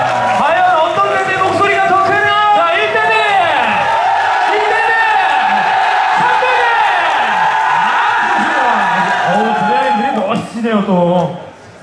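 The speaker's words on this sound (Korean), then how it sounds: "박수로 환영해 주시기 바라겠습니다" A crowd at a military regiment's open-day talent show at the Yanggu Navel Festival in Gangwon Province cheers and shouts to welcome the battalion commanders, a loud, sustained roar of voices and whoops close by.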